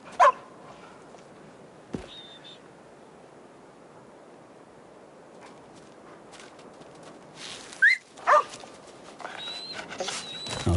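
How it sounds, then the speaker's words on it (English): A virtual dog in the zombie game Arizona Sunshine 2 gives a short bark near the start, then a quick pair of yelps or whines later on, heard fairly close over a quiet ambient background. "come on, little dog."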